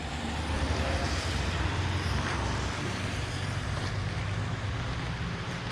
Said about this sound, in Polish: Jest tu strasznie hałas. Tutaj jest jakaś droga autobusowa.